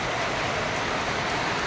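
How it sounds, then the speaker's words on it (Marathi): Heavy monsoon rain pouring at night in Mumbai, a steady dense hiss that stays loud and even throughout, with no voices. "आता पाऊस आला बघा जोरात."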